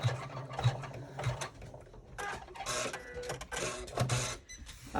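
Embroidery machine stitching the vinyl exterior of a crossbody bag, a steady rapid mechanical clatter of needle strokes with periodic louder thumps, continuous and close throughout.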